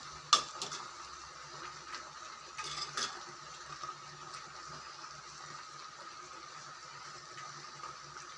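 Avial vegetables stirred in a pot with crushed shallots and green chillies, producing faint, soft scraping and light clinks of a utensil against the pot, with a couple of brief knocks near the start and around three seconds, and no talking.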